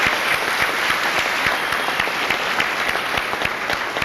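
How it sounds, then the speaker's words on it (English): Sustained applause from a high school senior assembly audience honoring the school staff, dense and steady clapping from a large crowd throughout, with no speech. "I'd like to give them a nice round of applause"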